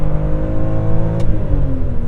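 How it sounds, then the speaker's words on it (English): A BMW E46 M3 engine revving up after warm-up, a steady loud mechanical drone with layered harmonics holding high, slight rise and fall in pitch, heard close and alone without talk. "So you say, okay, car is warmed up, let's rev it up"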